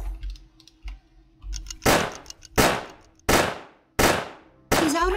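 Gunfire in the video game UFO Aftermath comes as five loud, sharp reports about half a second to a second apart, each ringing out briefly, preceded by soft clicking game sounds.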